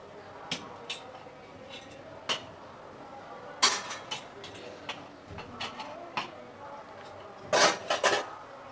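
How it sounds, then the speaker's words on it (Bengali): A metal lid lifted off a pot of cooked khichuri in a home kitchen after the gas is turned off, giving a few sharp clinks and clatters with a louder rattle near the end over quiet room tone. "এখন ঢাকনাটা খুলে নেব।"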